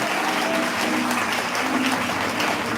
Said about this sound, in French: Acclame encore pour le Seigneur